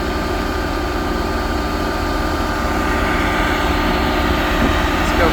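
A heavy engine runs steadily while the barrel rotor of a mining wash plant spins, giving a continuous low rumble and drone that stays constant throughout.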